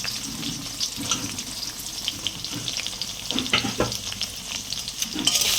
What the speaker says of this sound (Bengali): তেলটা গরম হয়ে গেছে পেঁয়াজ দিয়ে দিলাম কুচিয়ে রাখা পেঁয়াজটা দিয়ে দিলাম